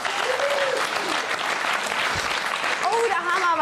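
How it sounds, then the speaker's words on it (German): Talk show studio audience, many men among them, breaks into loud sustained clapping while voices speak over the applause. "Oh, da haben aber viele Männer hier geklatscht."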